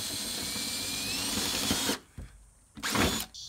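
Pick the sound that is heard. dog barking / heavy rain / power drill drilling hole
power drill drilling hole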